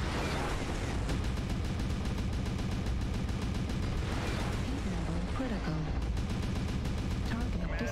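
Mech weapons in MechWarrior Online, an Atlas loaded with autocannons and missiles, fire in a dense nonstop barrage of overlapping shots and blasts, loud throughout with bursts of rapid gunfire under occasional voices.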